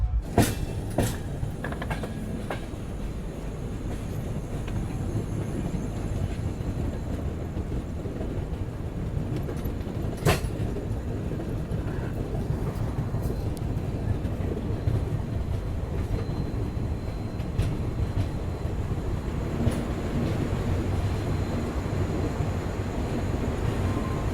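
Interior of the Capital Express train running toward Kamakhya station, a continuous rumbling hum with rhythmic wheel clatter and a few sharp metallic clanks and knocks, steady and close throughout without speech.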